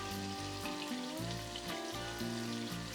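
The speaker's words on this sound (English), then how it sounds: "we are just doing a really quick sear" Meat sears in a hot Ninja Foodi pot while Cajun jambalaya is being made, giving a steady, dense sizzle and crackle that stays loud and even throughout, with some background music tones and no talking.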